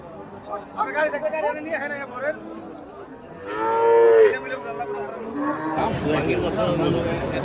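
Cattle lowing at the Hozrotpur cattle market, one clear loud moo mid-clip among crowd chatter and people talking, with a busy, noisy market din building toward the end.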